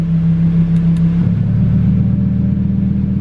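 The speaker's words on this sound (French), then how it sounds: "quand je mets le mode sport, écoutez les valves quand elles vont s'ouvrir" A Lamborghini Huracan EVO idles with a deep steady drone, then as sport mode opens the exhaust valves the note shifts lower and rougher, a throaty rumble close by.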